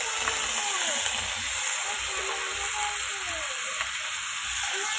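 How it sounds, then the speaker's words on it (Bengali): Beans and carrots fry lightly in a pan for rice, giving a steady, even hiss of sizzling oil that stays constant for the whole stretch, with faint squeaky tones drifting over it. "এবার রাইসের জন্য যে বিনস গাজর এগুলো হালকা করে ভেজে নেবো একটু"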